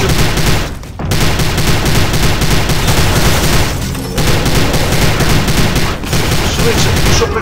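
Dense, continuous rapid gunfire roars loudly throughout, with only brief dips, like nonstop automatic weapon fire during a boss fight in the video game Prey (2006).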